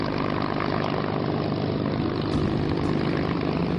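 Steady, loud drone of Avro Lancaster bomber propeller engines, a continuous dense roar holding constant throughout with no voices.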